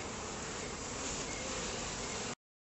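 Honeybees drone in a steady, dense buzz during a top bar barrel hive inspection, the close swarm hum holding constant before cutting off abruptly, with no voices.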